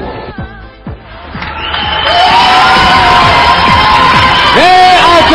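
A large crowd at an ice dance performance bursts into loud, sustained cheering and applause with whoops and shouts, swelling to fill the arena after some scattered voices at the start.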